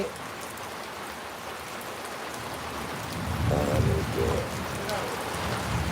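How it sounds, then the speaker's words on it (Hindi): Heavy rain pours down steadily outdoors, a constant hiss of drops with a low rumble swelling midway; a faint voice murmurs underneath. "हमारे यहाँ तो बारिश खूब हो रहा है"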